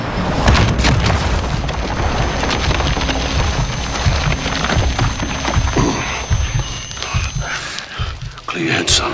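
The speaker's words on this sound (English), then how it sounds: "Missiles incoming." Incoming missile explosions in Call of Duty Modern Warfare, loud rumbling booms and rolling blasts packed together under a steady battle din, with voices talking throughout.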